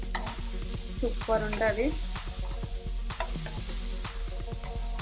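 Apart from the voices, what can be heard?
pineapple roasting with salt over a low flame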